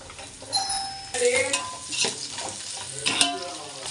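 Cabbage, chili, carrot and beans are stir-fried for chicken noodles. A sizzling pan comes through with sharp scraping bursts and clinks as the vegetables are tossed, loud in uneven waves.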